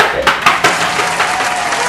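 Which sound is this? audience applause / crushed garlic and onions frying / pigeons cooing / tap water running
audience applause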